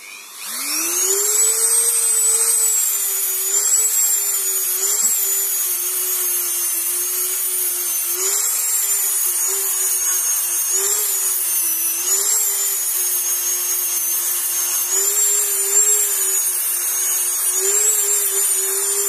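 A power tool strips paint mechanically from dirt bike metal during a restoration, a loud continuous whining drone that rises and dips slightly in pitch as the pressure on the metal changes.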